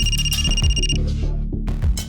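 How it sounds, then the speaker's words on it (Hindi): Telephone ringing in a police crime drama, a bright electronic ring pattern heard once, with low music underneath and no talk. "तिवारी, सर कंट्रोल रूम से फोन आया था अभी"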